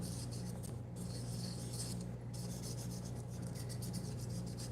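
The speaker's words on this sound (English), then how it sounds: "we are going to have to sand the spheres to make sure our paint stays on. So use our sandpaper." Spheres being sanded with sandpaper before painting make a continuous rough rubbing and rasping, with rhythmic strokes repeating steadily and close by.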